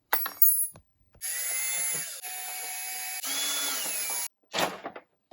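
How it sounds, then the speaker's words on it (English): Power drill boring out holes in Yamaha R7 track bike parts, with a short whir, then two long sustained runs of steady whining drilling separated by a brief pause, and a final short burst, close and loud. "We got to drill out the holes a little bit,"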